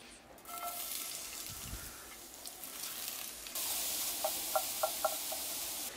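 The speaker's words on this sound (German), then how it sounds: "Und dann braten wir jetzt unsere Paprika an." Bell peppers and onions fry in a Dutch oven, producing a steady broadband sizzle that grows louder midway, with a few light clinks of a utensil against the pot. No speech is heard.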